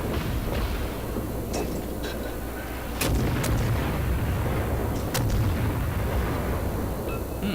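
Naval guns firing high-explosive shells in World of Warships boom repeatedly over a constant roar of game ambience, with heavy salvos around the middle and sharp cracks scattered throughout.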